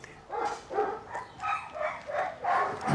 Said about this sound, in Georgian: აშკარაა ჩხუბობენ, ღრენა ყმუილი და ყეფა დგას.